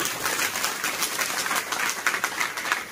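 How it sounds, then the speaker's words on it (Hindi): An audience claps in a steady, dense roll of many hands at a hotel business meeting, sustained and fairly loud for the whole stretch, with no voices standing out. "एक जोरदार ताली नारी शक्ति के लिए"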